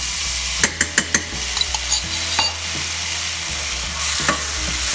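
Garlic sizzles loudly in a hot pan, with a few sharp utensil scrapes and taps as it is stirred near the start, then a steady frying hiss continues alone.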